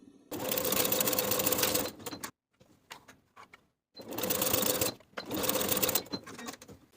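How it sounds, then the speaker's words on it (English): A sewing machine stitches at its longest basting length, attaching a knit pocket to the front pant piece of a jumpsuit: two long bursts of steady, rapid stitching broken by a short pause with faint handling noise, then a final run. "Sew the pocket to the front pant along the top and side edge, basting in place using the longest stitch on your machine."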